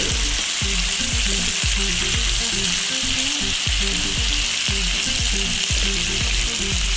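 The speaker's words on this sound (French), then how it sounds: "Donc on va mélanger de nouveau." Chopped onions and fresh tomato fry in a pan for a Comorian carrot sauce with chicken wings, a loud, constant sizzle close by, broken by a steady rhythm of spoon strokes stirring through the pan.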